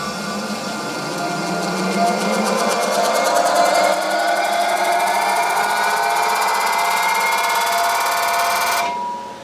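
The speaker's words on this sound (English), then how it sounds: "So now I want to spin up the tire and see if it measures anything." A 1960 on-car wheel and axle balancer spins up a car tire, giving a loud, steady mechanical whir with a rising whine that holds for several seconds before cutting off abruptly near the end.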